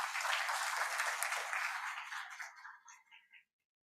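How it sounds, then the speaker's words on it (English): An audience at a formal ceremony applauds in a bright, dense burst that thins into a few scattered claps and fades to silence. "Can we have a big round of applause, please?"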